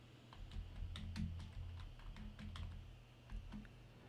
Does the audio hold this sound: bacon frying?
no